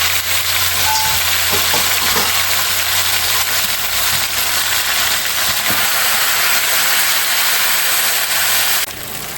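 Thinly sliced beef sizzling steadily in a hot pan for beef noodles with vegetables, a loud, close, continuous frying hiss with a few soft stirring knocks, no talking, dropping slightly at the very end.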